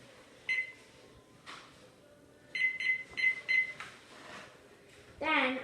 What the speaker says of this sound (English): I'm going to set a timer for